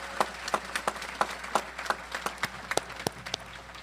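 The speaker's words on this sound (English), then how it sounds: "Please give them all a round of applause at this time." A graduation audience at a high school ceremony claps for teachers and staff with sparse, distinct handclaps spaced through the moment, fairly faint and somewhat distant across the hall.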